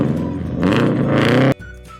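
Car engine revving hard and close for about a second and a half, a loud rising roar that cuts off abruptly, followed by a quieter tail.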